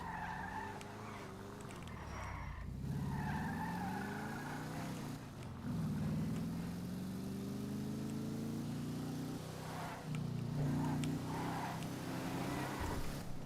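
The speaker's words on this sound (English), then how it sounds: "The engine does sound really good though. Like, it does have a beautiful sound." The Declasse Voodoo car in GTA 5 gives a steady, throaty engine drone with rising and falling revs as gears shift, plus a bit of tire noise, continuous and close, with no talking.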